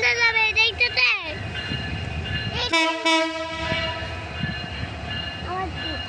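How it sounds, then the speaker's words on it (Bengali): A rail engine passes with a loud horn blast, then steady rumbling and screeching along the tracks, harmonic tones ringing over the noise, with a voice heard in the background. "ট্রেনটা যাবে, এই ট্রেনটা এটা যায়, ওই ট্রেনটা যাবে"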